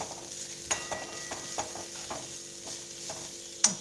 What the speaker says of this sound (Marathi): कांदा पण आता भाजत आलाय असला मसाला भाजायला जरा उशीर लागतो